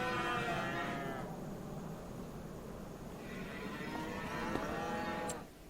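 Cattle in animal pens in a video game moo twice, each a long, drawn-out low call with a quieter stretch between them and no voices.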